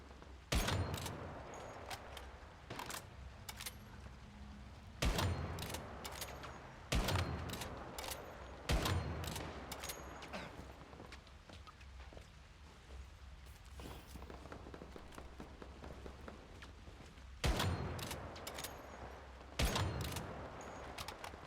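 Gunfire in the online shooter game Once Human: scattered sharp shots and short bursts crack at irregular intervals, some close and loud, others fainter, over a low background hum.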